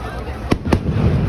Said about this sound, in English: Listen for the lifting charges.